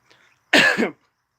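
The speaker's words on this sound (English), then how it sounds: "Sorry, I'm coughing." A single short, sharp cough close to the microphone, preceded by a faint breath, then silence.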